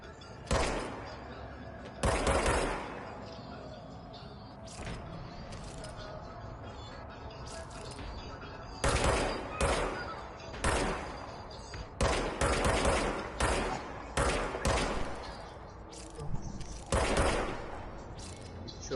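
Gunfire in the video game Control, repeated bursts of loud rapid shots in clusters separated by quieter stretches of ambient game noise, close and dominant.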